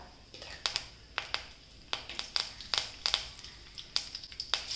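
Mustard seeds and curry leaves hit hot oil in a pan and spit and crackle, with a run of sharp, irregular pops, some in quick clusters, over a soft background hiss.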